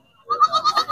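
A Sindhi goat, a male with four teeth, bleats once in a close, loud, wavering nasal cry lasting under a second.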